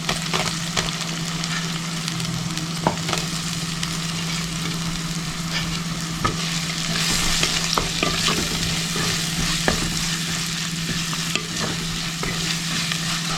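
Crushed ginger, garlic and shallots fry in hot coconut oil for a Kerala stingray fish curry: a steady, close sizzle with occasional spoon clicks and a constant low electrical hum beneath.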